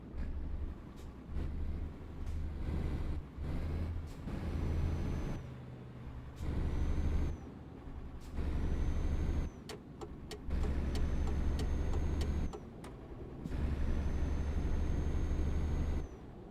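Heavy truck engine in Euro Truck Simulator 2 drones low and steady, broken by several sharp hissing air-brake bursts and short mechanical clicks, loud and close, with no talk.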